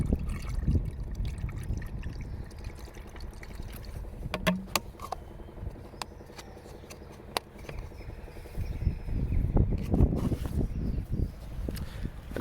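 Water poured into a container to dilute Rain-X windscreen washer additive, a sloshing, trickling stream with glugs and bottle handling clatter, fairly close, heavier pouring toward the end.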